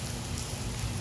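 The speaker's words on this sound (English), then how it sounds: "It's raining, thunder and lightning" Rain falls steadily outdoors during a thunderstorm, a dense continuous hiss and patter with a low rumbling undertone, with no voices.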